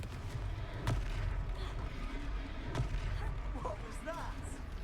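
Confringo blasting spell explosions in Hogwarts Legacy, a couple of sharp booming blasts over a dense, rumbling battle din with voices talking throughout.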